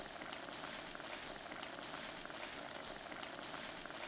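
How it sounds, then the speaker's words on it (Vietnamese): Soft, continuous bubbling simmer of fish braising with pepper in a pot on low heat, a steady quiet fizz with no voices. "Mình cứ kho với lửa riu riu như vậy đến khi lượng nước kho từ từ sắc lại."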